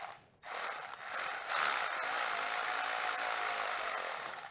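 Ratchet clicking steadily while tightening the rear brake bolt on a Yamaha YZ250FX dirt bike, a continuous close mechanical chatter that starts abruptly after a brief quiet moment and carries on alone.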